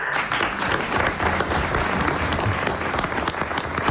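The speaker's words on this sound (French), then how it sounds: "on vous applaudit" A French television talk-show studio audience applauds steadily for four seconds, a dense, even wash of many hands clapping at close range with no voices on top.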